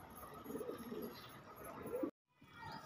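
Several pigeons coo softly nearby in low, repeated murmurs, cut off abruptly by a short silence before resuming.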